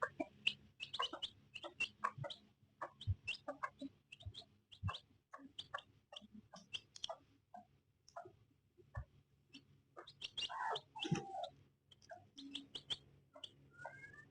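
A hen clucking near chicks: a steady run of short, soft clucks with occasional louder squawks and chirps, close by and fairly quiet.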